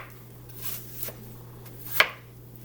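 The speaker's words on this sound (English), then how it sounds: "chop the last bit off and chop into small segments" A knife chops an apple into small segments on a board, giving a few soft taps and then one sharp, distinct chop, over a low steady hum.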